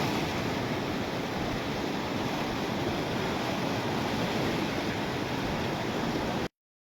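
The flooded Kaliyani river in Karbi Anglong, Assam, rushes past in spate, a loud, continuous broadband roar of churning water near a culvert, unbroken until it cuts off abruptly at the end.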